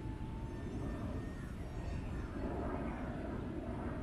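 An Eachine Mini Wing Dragon RC plane flies and turns outdoors in near-calm air, giving a steady, faint whirring buzz that holds evenly throughout with no talk.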